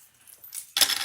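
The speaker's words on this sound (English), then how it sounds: "See, look at me. My scissors dropping." Metal scissors shaken off a vibrating sewing table by a running Juki machine hit the floor with one sharp, close metallic clatter and a brief jangling ring after a quiet lead-in.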